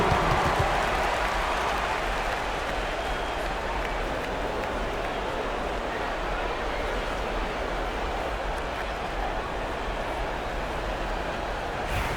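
Arena crowd applause fills an NBA 2K basketball game, a broad, sustained wash of clapping and crowd noise at steady loudness, easing slightly as it carries on.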